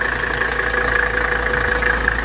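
A 1983 Mercedes 300D engine idles while warming up, giving a steady, loud, even mechanical drone with a slight knocking texture and no change in pace.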